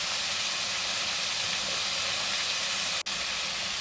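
Mango pieces fry in a pan for chutney with a steady, loud sizzling hiss that carries on evenly throughout, broken by one brief sharp click.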